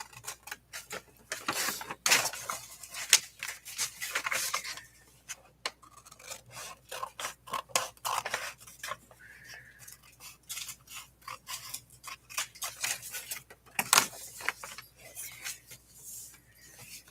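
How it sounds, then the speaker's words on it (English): Scissors cut fabric with steady rasping, snipping strokes in a quick irregular rhythm, close and moderately quiet, with no talking. "Scissors."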